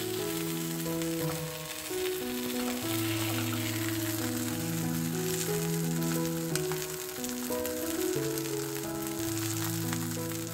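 Yellow croaker fish fries in a frying pan, giving a steady, even sizzle throughout, mixed under continuous background music with no speech.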